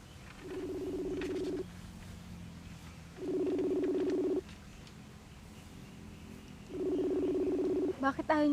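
An unanswered phone call rings back three times, each a long, steady electronic purr lasting about a second with a pause of roughly two seconds between. A short burst of noise closes the sequence.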